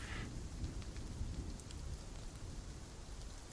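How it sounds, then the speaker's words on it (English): Steady rain of a storm falling on surfaces, a soft continuous hiss with a low rumbling undertone, faint and distant, with no one speaking. "that's the rain, you know. storm."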